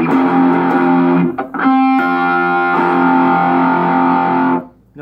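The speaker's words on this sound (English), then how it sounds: "go back down to 3 on distortion here and do the back pickup again, turning everything back up to 10" An electric guitar on its back pickup, with the distortion button on and the volume at full, rings out a sustained, saturated chord that drops away to near silence at the end.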